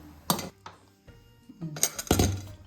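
A metal pot of freshly cooked jowar malt is taken off a stove with a few sharp clinks and clanks of cookware, close by, in scattered bursts with quiet gaps between.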